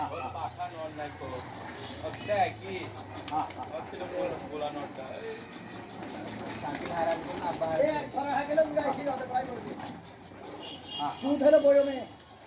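Pigeons, including a white one, coo repeatedly in low rounded bursts near the listener, rising and falling throughout while someone talks over them.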